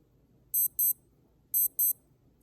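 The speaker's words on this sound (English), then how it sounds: "An alarm." A vintage Casio W-26 digital watch alarm sounds in two quick pairs of shrill electronic beeps, close and clear against near silence.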